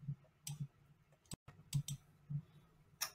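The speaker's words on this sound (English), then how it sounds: "click the Save button" Soft mouse clicks on a Save button in real estate CRM software: a few faint, sharp taps spaced irregularly over quiet background, with no talking.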